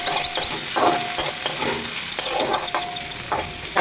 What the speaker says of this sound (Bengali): তাই দেখো আমার আলু ভাজা বসে গেছে